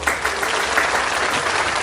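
Studio applause effect from a Brazilian self-help host's intro, a dense, steady wash of many clapping hands held at even loudness throughout, with no voices over it.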